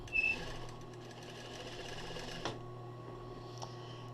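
A sewing machine stitches a swimwear bodysuit with a soft, steady whirring hum that runs for a few seconds, marked by a couple of sharp clicks, and is heard alone at a quiet level.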